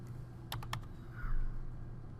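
A computer keyboard gives four quick, faint key taps in a row over a low room hum.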